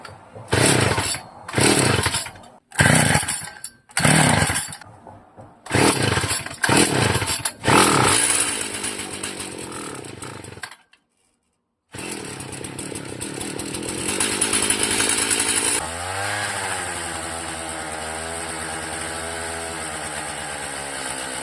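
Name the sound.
old motorized bicycle engine starting and running after carburetor refit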